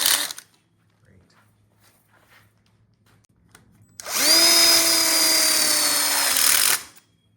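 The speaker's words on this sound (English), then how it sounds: "put in the last screws in the bottom of the one-way" Cordless power drill driving a screw into a built-in grill cutout for an outdoor kitchen. One loud, close, steady whine runs for about three seconds after a short click and a quiet pause.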